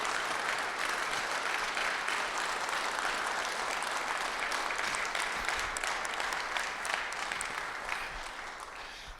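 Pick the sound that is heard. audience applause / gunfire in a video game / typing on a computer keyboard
audience applause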